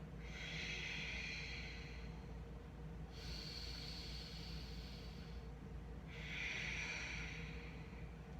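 Slow breaths out during a yoga practice, three long airy exhales through the nose with quiet pauses between, close and soft with no talking.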